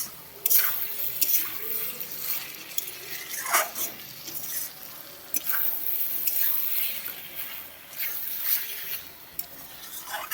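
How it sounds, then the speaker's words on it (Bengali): Chickpeas sautéed in oil in a pan for a quick Bengali recipe, with soft sizzling and repeated scraping stirs at an unhurried rhythm. A few louder clattering strokes stand out, and nobody speaks. "ছোলাটা ভালো করে কষিয়ে নিচ্ছি। কষিয়ে নিয়ে আস্তে আস্তে নেড়ে নেড়ে কষিয়ে নিতে হবে।"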